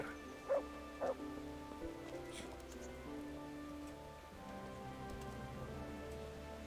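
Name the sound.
rain in a video game, Kingdom Come: Deliverance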